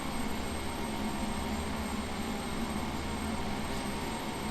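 Aircraft engine whine and roar from a taxiing plane in a flight simulator game in Alaska, a steady continuous drone with no pauses.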